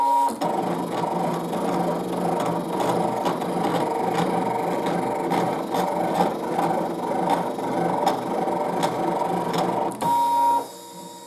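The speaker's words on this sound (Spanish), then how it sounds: "Mandamos a cortar." A Brother ScanNCut CM900 cutting machine cuts a rosette shape, a continuous mechanical whir with rapid rhythmic ticking of the carriage for about ten seconds before stopping abruptly.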